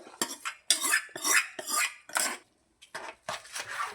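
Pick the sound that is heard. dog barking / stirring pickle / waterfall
stirring pickle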